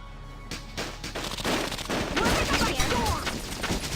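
Rapid gunfire from Valkyria Chronicles, a dense burst of overlapping shots over continuous battle noise.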